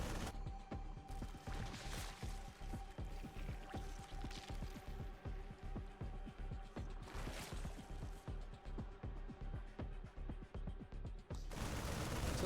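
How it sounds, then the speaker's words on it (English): Marines in StarCraft 2 firing steadily at destructible rocks: rapid, evenly spaced clicking gunfire runs on at moderate volume, with a few brief swells of other game effects. "Still got our Marines firing up on this rock"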